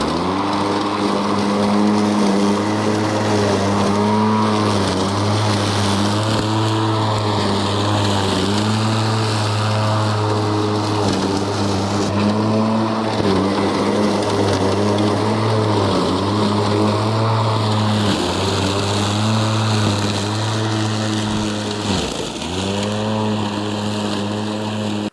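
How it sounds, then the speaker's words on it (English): A remote control lawnmower runs continuously while cutting thick grass, its engine drone steady and close with slight load dips and wobbles in pitch throughout. "we can obviously tell that it can mow the thick grass"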